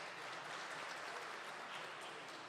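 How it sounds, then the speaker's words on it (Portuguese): An audience in a plenary session hall applauds the mayor of Santo André, Paraíba. The steady wash of clapping sounds faint and distant and lasts the whole few seconds, with no voices over it. "Uma salva de palmas para o nosso prefeito."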